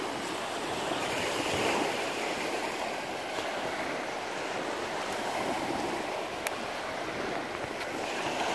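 Ocean waves wash steadily onto a trash-strewn beach in the Camotes Islands, Philippines, a continuous broad roar of surf with no distinct breaks and no voices.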